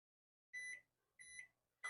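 Microwave oven timer beeping as it is set for a cooking run, three short, bright electronic beeps spaced about half a second apart, clear and close with silence between.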